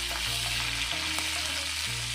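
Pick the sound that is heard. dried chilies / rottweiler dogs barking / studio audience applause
dried chilies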